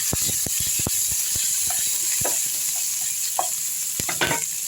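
Green chillies, curry leaves and a little coriander sauté in a pan for curd rice, bright steady sizzling with a series of sharp spatula scrapes and taps against the pan, close and loud.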